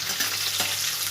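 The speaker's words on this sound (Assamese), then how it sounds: "এয়া পিঁয়াজ অকণমান লৰাই দিয়া।" Onions fry in a pan while being stirred, a steady close sizzle with a faint scraping stir.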